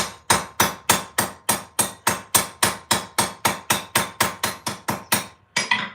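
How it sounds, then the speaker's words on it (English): About twenty evenly spaced, sharp hammer blows ring out as a steel rivet's end is flared on bolt-jaw blacksmith tongs, loud and close, with a brief pause before a final strike. "what I just did is I flared the end of the rivet just enough that it won't fall through"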